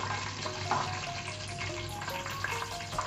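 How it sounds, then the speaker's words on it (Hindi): Cumin seeds, about a spoonful, lightly frying in a pan, giving a steady soft crackle and hiss close by with faint stirring, no voices. "हल्का सा फ्राई करके"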